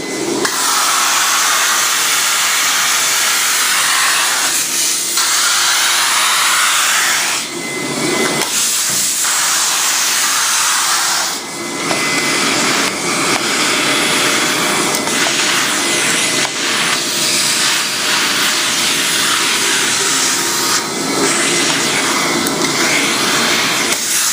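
A floor cleaning machine runs with its upholstery tool attached, giving a steady, loud broadband whoosh and hiss that dips briefly a few times and then continues without a break. No one speaks.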